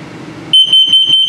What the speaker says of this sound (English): It's carbon monoxide coming up.